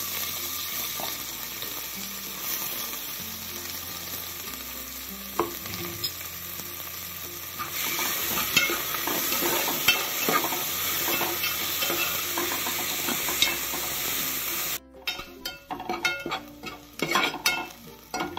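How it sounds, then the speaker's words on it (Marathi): Onion frying in hot ghee for a mutton kol dish, a steady close sizzle with stirring scrapes throughout, then sharper clattering stirs near the end; no talk. "गरम तुपात राहिलेला कांदा टाकते. तो पण छान लालसर परतायचा आहे."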